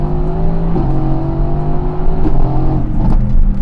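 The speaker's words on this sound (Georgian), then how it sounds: "საკმაოდ ფიცხი ძრავი აქვს, აი ნახეთ პატარაზე დავაჭირე თუ არა" A loud Mercedes-AMG GT V8 engine, 690 hp, revs hard in short bursts, its deep roar climbing and dropping three times over a steady growl.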